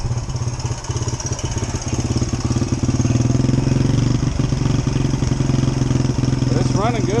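A 2003 Suzuki DRZ125 motorcycle engine idles high with the choke on while warming up, a loud steady buzzing putter throughout, with someone talking briefly near the end.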